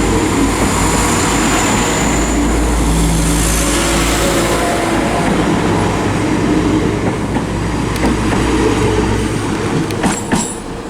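A Class 172 diesel multiple unit pulls into Stourbridge Junction station, with a steady engine drone and rolling wheel noise that ease off, ending in sharp metallic brake squeals near the end.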